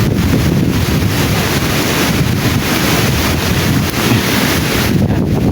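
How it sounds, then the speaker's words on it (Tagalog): Strong, steady wind roars across the microphone at a waterfall in Agusan del Norte, Philippines, with a constant dense rush and buffeting mixed with rain, continuous and loud throughout. "ulan at saka malakas ng hangin"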